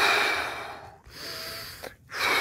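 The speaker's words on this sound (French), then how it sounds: "j'ai accéléré la respiration pour prendre de l'air et petit à petit, je me relaxe" Someone breathes fast and loud to recover after breath-hold walking. The deep, rushing breaths are close up, with two short pauses between gasping cycles.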